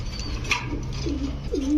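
Soft, low coos of high-flying Giribaz pigeons, two short rolling calls heard faintly over a steady background hum.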